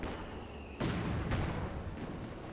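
A Pak 40 anti-tank gun fires in a Company of Heroes 2 battle, with a sudden heavy boom followed by a second thump, both fairly faint and trailing into a rumbling decay.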